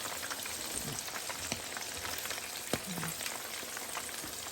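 Large shrimp deep frying in hot oil, with a steady, even crackling sizzle throughout and a few sharp pops.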